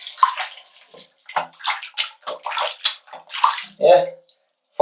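Water pours in bursts from a tap over an Honor Magic 8 Lite phone, splashing and gurgling in short uneven gushes up close, with brief gaps between them.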